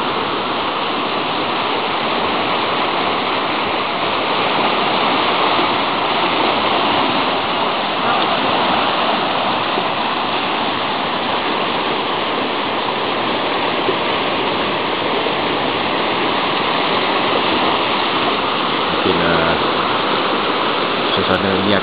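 Muddy river water rushing down from upstream makes a steady, close, full-bodied roar that holds at an even loudness throughout, with a brief faint extra sound near the end.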